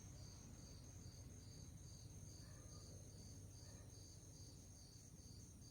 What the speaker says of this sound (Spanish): ese sonido que hacen los grillos